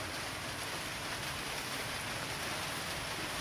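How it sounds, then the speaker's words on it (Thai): Steady rain hisses evenly on surfaces, a constant soft wash of patter with no voices. "วันนี้ฝนตกนะครับ"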